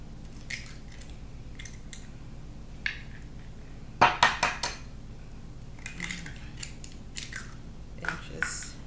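Eggs are beaten in a bowl with utensil clinks and taps, scattered and fairly faint, with a sharper burst of scraping clatter midway.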